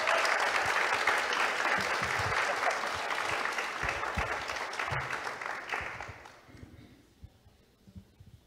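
Audience at a university academic projects event claps warmly for a presenter, dense applause for about six seconds that then thins out and fades to near quiet.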